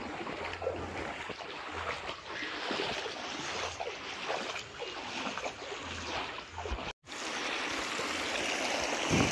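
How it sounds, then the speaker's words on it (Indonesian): A river swollen by a village flood rushes past at bank level, a steady broadband roar of flowing water heard up close and continuously, with a brief dropout near the end before the torrent resumes. "dan inilah sungainya. Sungainya sudah rata dengan air."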